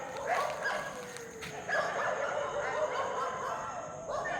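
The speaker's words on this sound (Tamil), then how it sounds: "நாய்ங்க, தெரு நாய்ங்கள்லாம் கத்துது பாருங்க." Several street dogs bark and yip at a distance in uneven bursts at night, with a faint background hum.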